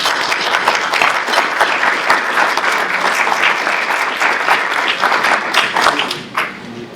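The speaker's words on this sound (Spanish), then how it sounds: "Un fuerte aplauso para Paco." Sustained, loud applause from an audience at a freedom forum in Mexico, many hands clapping densely and evenly throughout before tapering slightly at the close.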